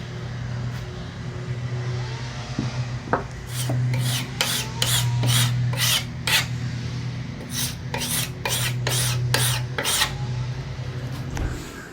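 Hand sanding of filler on a DIY countertop scrapes in quick back-and-forth strokes, two bursts of rhythmic rasping over a low steady hum.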